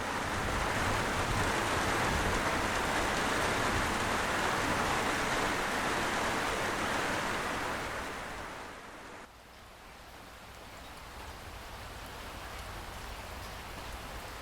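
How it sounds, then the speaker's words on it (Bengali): Storm rain in a Bangla cartoon pours as a dense, steady hiss that eases off, dips briefly, then carries on more softly. "ঝড় বৃষ্টি শুরু হয়েছে"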